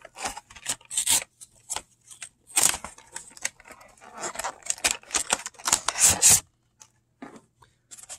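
A box of Pokémon 151 trading cards is being opened, heard as close rustling, scraping and tearing of cardboard and foil in irregular bursts with short pauses, no voices.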